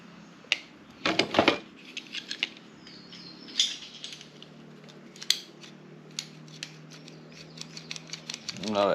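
Cutting a part during a 4L80E transmission swap into a 1972 Buick Centurion, close sharp snips and clicks in irregular bursts over a low shop hum, with a rising rushing sound at the end.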